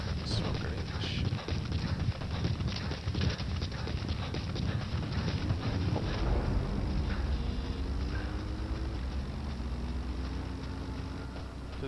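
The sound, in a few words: horse hooves clip-clopping while riding, from video game Metal Gear Solid V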